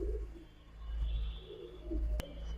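Soft, low cooing from flying pigeons, khaki-coloured Giribaz, in a few short bursts against a steady low hum, with a brief sharp click near the end.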